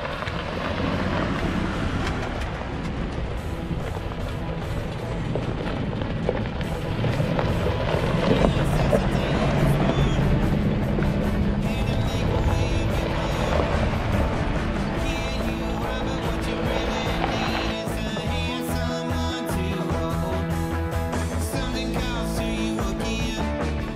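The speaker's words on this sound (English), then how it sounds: "So we are now driving down into the wash." A 4x4 drives down into a desert wash on a scenic Arizona trail. It makes a continuous close rumble with wind buffeting the microphone and rattles over rough ground, and a voice speaks over it at times.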